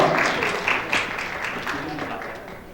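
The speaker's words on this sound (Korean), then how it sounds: "여러분 축하의 박수 부탁드리겠습니다" An audience at a Korean volunteer awards ceremony claps steadily, the applause gradually thinning, with voices talking over it.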